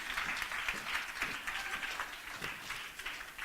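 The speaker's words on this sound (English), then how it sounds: "Give her a round of applause, please, ladies and gentlemen." An audience at a comedy show claps for Haley, a steady, moderately distant patter of applause throughout with no talking.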